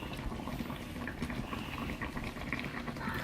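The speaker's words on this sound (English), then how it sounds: "came to check on the pot roast. Still bubbling away" Pot roast simmering in beef stock, a dense, continuous close bubbling and popping that stays steady throughout.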